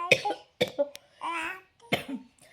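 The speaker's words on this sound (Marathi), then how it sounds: "मला पण आता उलीचा खोकला येतोय" A person coughs in several sharp, close bursts, with short pauses between the coughs and faint breathy sounds in between.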